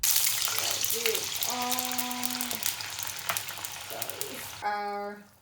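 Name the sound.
water poured into frying pan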